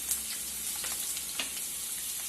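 Ginger, garlic and green chili dropped into a pan of browning grated coconut, frying with a close, crackling sizzle and a few soft stirring scrapes.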